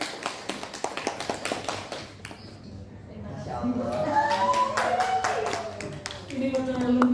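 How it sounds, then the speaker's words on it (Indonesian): A small audience at a positive school culture dissemination session gives quick, rhythmic clapping for a speaker. The clapping fades after a couple of seconds, and a voice then talks over the room. "Ada tepuk tangan untuk Ibu Tri"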